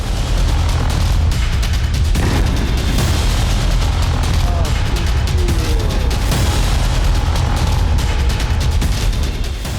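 Explosions and booming blasts in wartime Kyiv, Ukraine, a loud, continuous rumble of heavy low-frequency detonations and crackling that carries through the whole stretch, with no talk over it.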